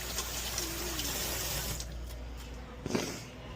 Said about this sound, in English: let me just do a quick little rinse of the hand.